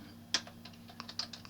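Scattered keystrokes on a computer keyboard resting on a lap, a dozen or so irregular clicks at a slow, hesitant pace, close and fairly quiet, with no talking.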